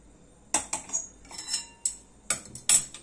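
Roasted ingredients being scooped from a pan onto a plate, heard as about eight short metallic scrapes and clinks of a spoon against metal, close and clear in quiet surroundings.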